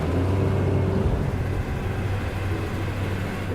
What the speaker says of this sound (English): I think I'm almost in the brink of outboard failures. To be honest with you, that's what it sounds like